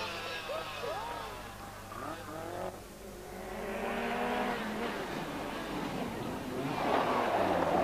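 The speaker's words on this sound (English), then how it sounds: "The Lancia is surviving this punishing rally fairly well." A Lancia rally car races through a punishing stage of the 1983 Circuit of Ireland Rally, its engine revving and note rising under a commentator's voice, with tyre noise and a louder surge near the end.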